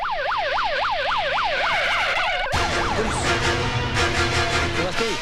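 A fire brigade siren wails loudly and close, sweeping up and down in a steady rhythm before switching to a faster, harsher warble partway through.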